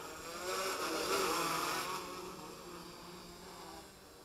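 A home-built F450 quadcopter drone, a Chinese copy with one replacement motor of a different make, buzzing steadily in flight, a wavering high-pitched whine that swells briefly and then eases slightly, with no voices.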